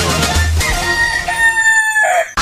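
A rooster crows loudly in a single long cock-a-doodle-doo, part of a Spanish-language radio jingle for a morning evangelical program from Monterrey, Nuevo León, and it ends abruptly.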